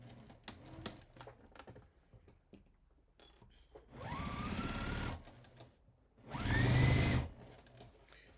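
A sewing machine stitches along the edge of a criss-cross apron in two loud, whirring bursts of about a second each, following quieter clicks and fabric handling.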